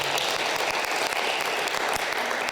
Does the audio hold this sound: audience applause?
yes